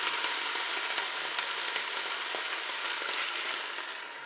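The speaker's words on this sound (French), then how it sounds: "Je vais verser mon bouillon" Beef broth is poured into the bowl of a Cookeo multicooker, making a steady close splashing hiss that holds for several seconds and then softens at the end.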